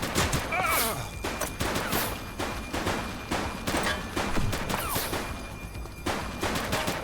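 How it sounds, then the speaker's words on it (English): Rapid bursts of gunfire in The Precinct police game crackle through a firefight, dense repeated shots with shouted voices mixed in, loud and close throughout. "Shots fired!"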